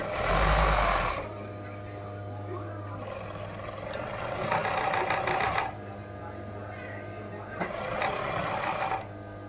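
An overlock sewing machine stitching fabric in fast mechanical bursts, starting loud and then running in two further spells of rapid whirring with quieter pauses between, close by.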